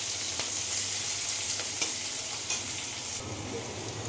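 Capsicum, carrot and beans stir-fry in hot oil for fried rice, giving a continuous close hiss and crackle with a few faint stirring scrapes, no talking.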